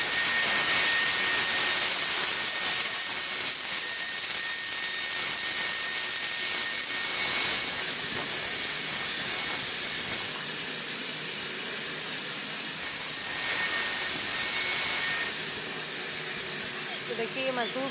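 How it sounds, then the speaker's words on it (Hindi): Whining turbine hiss and steady rotor roar of a private rescue helicopter flying over Chamoli, Uttarakhand, after a glacier burst, continuous and fairly loud throughout with no talk. "2 निजी हेलीकॉप्टर से किया जा रहा है रेस्क्यू"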